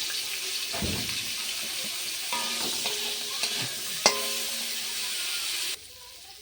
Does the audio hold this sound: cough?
no